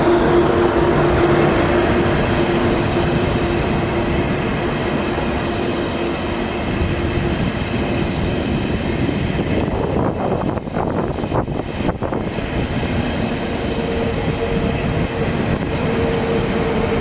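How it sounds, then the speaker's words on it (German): Regional Express 8 from Lauda stands at platform 3 of a German station, a loud, steady rumble of the train filling the air, with a few sharp squeals and clanks near the end. "Auf Gleis 3 ist der Regionalexpress 8 aus Lauda eingefahren"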